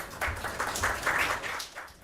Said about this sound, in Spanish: recibamos con un aplauso a Juan Manuel Espinosa Restrepo